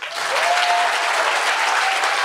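Steady applause from an audience voting by clapping for a contestant in a French thesis-in-180-seconds competition, one continuous dense burst of clapping from start to finish with a faint whistle or cheer riding on top.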